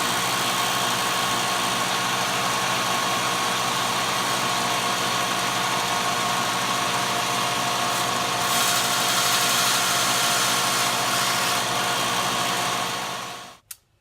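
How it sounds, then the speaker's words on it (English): Power grinder putting an edge on a polished aluminum keychain, one loud, steady, continuous whine held close for about thirteen seconds, briefly louder midway, then cutting off abruptly. "I'm going to go ahead and put the edge on it and then drill the keychain hole through the top."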